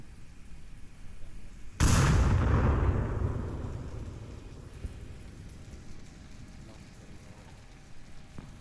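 A single heavy grenade blast in the VR shooter Onward hits suddenly and loud, then rumbles and decays over several seconds into a low background hiss.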